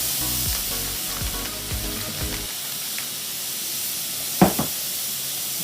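Pork sizzling in a frying pan with a steady close hiss, with a few stirring scrapes and a brief clatter near the end.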